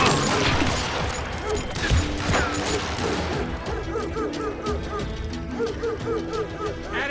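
Gunfire in Call of Juarez Gunslinger on Nintendo Switch, a dense fusillade of cracks and crashes at the start that thins into scattered shots under game music.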